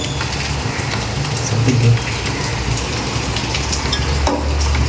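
Potato bhaji batter frying in hot oil on a home stove, a steady dense sizzle and crackle holding at an even level throughout, with a brief louder bubbling swell near the middle and no talking.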